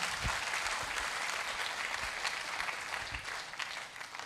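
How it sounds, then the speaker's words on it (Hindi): A motivational business seminar audience gives sustained, vigorous clapping that fills the room evenly and fades slightly toward the end, with no talking over it. "हम चाहेंगे इनके लिए भी एक जोरदार ताली हो जाए"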